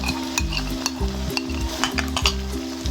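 Chicken kaleji with cream being stirred in a sizzling pan, a close, steady frying hiss with a repeated scraping stir and light clinks, no voices.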